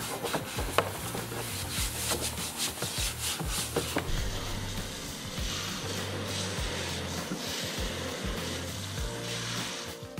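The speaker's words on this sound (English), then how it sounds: "A lot of the deep, deep stains were located on the foot area. I'm scrubbing a lot" A scrub pad or eraser works hard against deep stains on a boat hull's foot area, giving a steady, close, continuous rubbing and scraping with rhythmic strokes and no talking.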